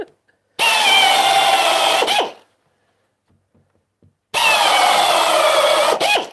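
A power drill driving screws into rotten wood, two loud sustained whirring bursts of about two seconds each separated by a quiet pause, close up.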